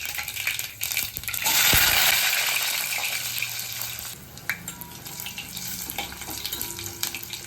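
Mustard seeds and fenugreek crackling and spitting in hot sesame oil, garlic then dropped into the pan, a loud sizzling burst swelling early and settling into steady popping and hiss.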